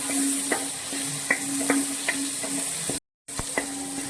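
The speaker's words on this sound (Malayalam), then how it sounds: "നമ്മുടെ ചെമ്മീൻ നമ്മൾ നല്ലവണ്ണം ഫ്രൈ ചെയ്തെടുക്കുക." Prawns fry in a pan with a steady sizzle. A spatula scrapes and knocks against the metal in an even rhythm, and the sound drops out briefly partway through.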